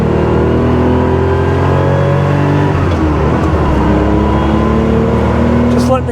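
Steady exhaust note of a 1979 Porsche 911 SC Targa with a rebuilt engine and transmission, cruising gently with a rising then settling engine pitch, loud and close, with a voice briefly over the engine.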